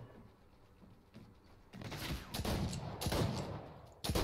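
Gunfire in the video game Fortnite, quiet at first, then dense bursts of shots from about two seconds on, loud and close with a final sharp burst at the end.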